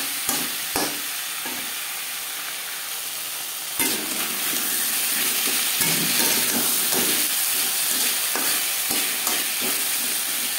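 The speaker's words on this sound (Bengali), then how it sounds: "সবজির সাথে বেশ ভালো করে মিক্স করে দেবো" Vegetables mixed with ginger paste and green chili paste are stirred in a hot pan for Bengali moong dal khichuri, with steady sizzling and frying hiss, occasional scraping strokes of the spoon, and no talking.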